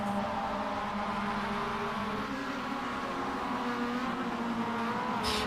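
Several race cars in the iRacing video game's ChampCar series at Adelaide weave through lap traffic, their engines a steady, loud drone that holds throughout with no talk.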